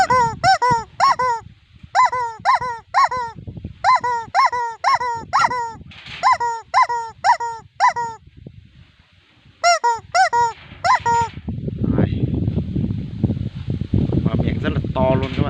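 A plastic toy chicken lets out loud, repeated honking squawks in rapid bursts, with pauses between groups, followed by rougher, noisier handling and rustling near the end.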